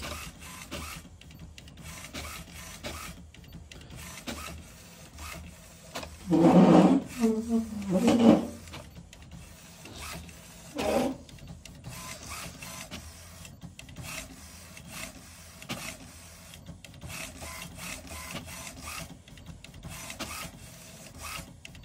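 An HP Smart Tank 500 printer prints an alignment page with soft, intermittent mechanical whirring and rubbing. A louder burst of feed noise rises briefly in the middle, and a voice talks quietly in the background.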